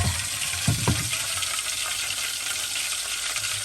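Spices dropped into hot oil in a pot crackle and sizzle steadily up close, with a couple of soft clunks near the start as they go in.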